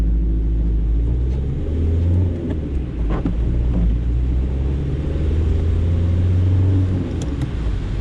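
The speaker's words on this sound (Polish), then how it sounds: "spróbuję sprawdzić, jak wygląda dynamika tego samochodu w mieście. Ruszamy z świateł." Low engine rumble from inside a 1996 VW Polo 1.9 diesel as it pulls away from traffic lights and accelerates in town, the drone rising steadily amid road noise.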